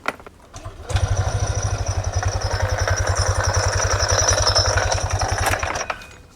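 A motorcycle engine sputters and catches, then runs with a loud, steady rapid chugging for several seconds before cutting off abruptly.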